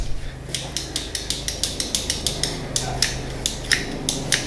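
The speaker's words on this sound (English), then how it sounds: "still just stripping, cutting this wire into manageable lengths" Copper wire is stripped and cut into lengths with a tool that clicks like a ratchet in a brisk, regular series of sharp snips and clicks, close up, with no voices.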